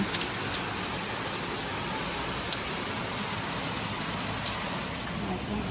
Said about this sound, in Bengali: বাইরে দেখো কি জোর বৃষ্টি